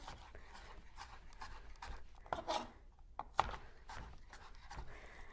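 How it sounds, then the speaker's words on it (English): A knife chops Roma tomatoes on a cutting board in a home kitchen, giving quiet irregular taps and thuds with a few sharper strikes, close and soft, without talk. "I'm going to give them one more little chop here"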